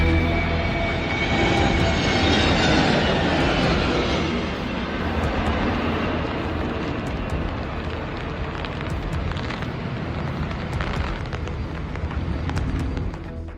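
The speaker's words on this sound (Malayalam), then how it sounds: "ചുഴലിക്കാറ്റിനിടെ വിമാനത്തിന്റെ ലാൻഡിംഗ് പാളി." A passenger jet aborts its landing at Chennai airport during a cyclone, a loud, steady roar of engines and wind-driven rain that surges early, then holds as a dense rumbling wash with no voices.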